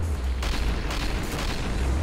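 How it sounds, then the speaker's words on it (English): A slow-motion rocket explosion in the Killing Floor video game makes a dense, sustained booming roar with low rumble and repeated bursts throughout. "New slow motion rocket."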